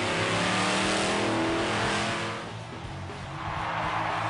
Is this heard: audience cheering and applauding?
no